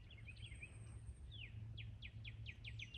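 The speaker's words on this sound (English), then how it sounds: "Wait, yeah, it is a bird." Faint bird calls near the water: a few short, sweeping chirps at first, then a quick run of repeated down-slurred notes, all quiet over a low steady background hum.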